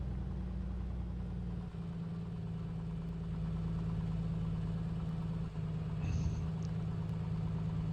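A Piper Comanche 250 engine idles in a flight simulator with a steady, low, droning hum that stays even throughout, with a faint brief disturbance near the end.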